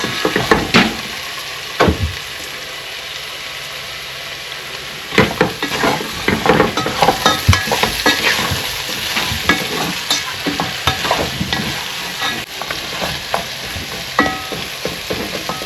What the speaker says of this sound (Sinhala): දාලා අපි මේක පොඩ්ඩක් හැඳි ගාගමු හොඳට.